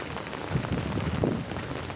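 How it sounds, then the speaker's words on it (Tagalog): Rain falls on a cloudy Tuesday morning as a steady dense patter, close by, with no voices over it. "It's raining."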